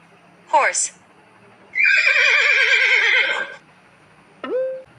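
A horse gives a loud, close whinny, a long quavering neigh of about two seconds, framed by short snorting calls before and after, clear against near silence.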